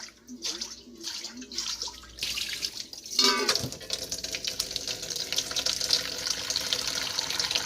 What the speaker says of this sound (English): my final step on my wash is to do kind of a vinegar rinse here